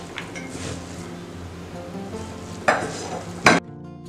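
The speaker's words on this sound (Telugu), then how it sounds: "బాగా కలపాలి." A maida batter mixture for veg manchurian is stirred in a bowl, soft wet churning sounds with two sharper scraping knocks near the end.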